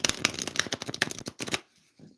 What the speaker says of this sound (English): That's why I keep shuffling them like this